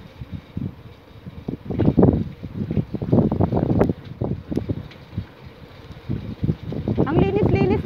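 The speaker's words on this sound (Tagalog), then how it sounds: "And the very strong wind. Windy time, windy moment." Strong wind gusts buffet the microphone beside a corn field along a clean rural road, rumbling in uneven bursts throughout while a voice talks over it.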